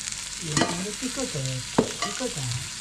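Masala powder tipped into a pan of browned onion and curry leaves frying in oil, giving a steady low sizzle with stirring scrapes and a couple of sharp clinks of a spoon against the pan, close by.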